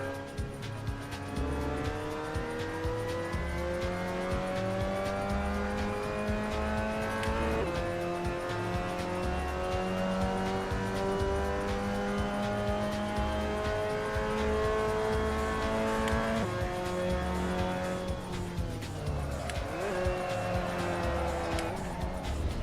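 A Mazda MX-5 Cup race car engine lapping Silverstone in a VR racing game, loud and continuous, revving up through the gears with sharp drops at shifts and braking, with a little tyre noise.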